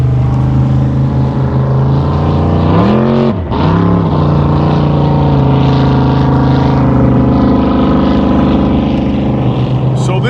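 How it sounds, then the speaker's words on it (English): A motorboat engine drones loudly and steadily as the boat passes close by, its tone sweeping down and back up at the moment of passing, then settling into a continuous hum from the water. "I'm gonna hang on just one sec before we let this boat come by"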